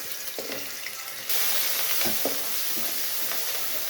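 Ginger hits melted ghee and sizzles, the hiss jumping louder partway through and continuing steadily, with a few soft utensil knocks nearby.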